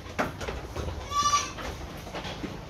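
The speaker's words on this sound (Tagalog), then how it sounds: "Makukulit na kambing, oh." Goats on Ligot Farm, one bleating loudly in a wavering cry near the middle, amid scattered thumps and outdoor farm noise with faint background voices.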